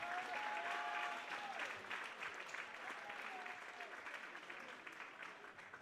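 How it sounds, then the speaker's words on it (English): Sustained crowd applause in a gym at a men's college volleyball senior night, honoring a graduating player; steady dense clapping with faint voices and cheers mixed in, fading slightly toward the end. "Big round of applause for Maxim Sutton."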